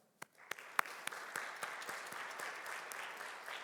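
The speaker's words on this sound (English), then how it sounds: "Can we give a round of applause to them?" A round of applause at a venture challenge finale starts with a few separate claps and then swells into steady, moderate clapping from a crowd, with a murmur of voices underneath.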